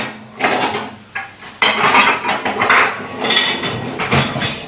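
Dishes and a spoon clink and scrape as saffron risotto Milanese, with the cheese rind left in, is served into a bowl; several loud, close knocks and scrapes come in irregular bursts.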